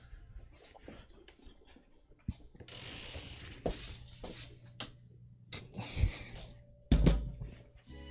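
A 3D printer's mechanism moves in short bursts of clicking, whirring and ratcheting, with uneven pauses and a few louder knocks near the end, all fairly quiet and without talk.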